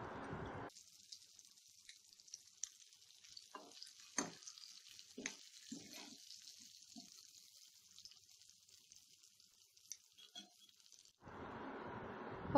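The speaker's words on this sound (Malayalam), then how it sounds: "അപ്പോൾ ഇത് നമ്മൾ വറുത്ത് കോരി വെക്കാം." Squid pieces with ginger and garlic crackle and sizzle in hot oil at a low, steady hiss, punctuated by sharper pops and spatter bursts, with a louder rush at the start and end.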